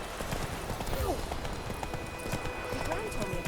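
Roach the horse gallops in the video game The Witcher 3, hooves clopping in a steady, fast rhythm under continuous talk.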